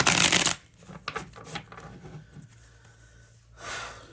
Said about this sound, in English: So let's pull some tarot to go deeper.